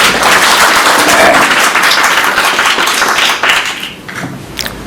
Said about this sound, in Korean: 우리 전상직 교수님께 큰 박수 부탁드립니다.